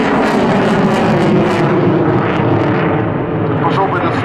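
A Swiss F-18 Hornet fighter jet thunders past during a display at the Luchtmachtdagen 2014 air show, a loud, continuous broadband jet roar that holds strong throughout while spectators talk nearby.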